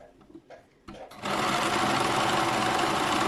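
After a few soft handling clicks, a sewing machine starts up and runs in a fast continuous whir, stitching fabric for a braided turban hat up close.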